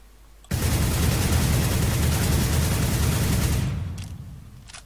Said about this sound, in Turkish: Şimdi sprey yaparak deneyelim bir silahımızı.